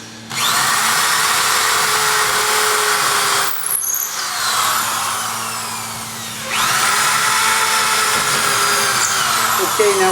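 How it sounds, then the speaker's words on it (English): A power drill bores a hole into a wall while colonial shutters are installed, its loud, steady whine running almost the whole time with a short break and a dip in the middle. "drill a hole out and run a screw into the..."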